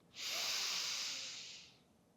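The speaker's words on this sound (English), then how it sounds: "Deep breath in to begin" Long, strong inhalation through the nose during a Kundalini yoga session, a steady rushing breath lasting about two seconds, close and alone with no talking.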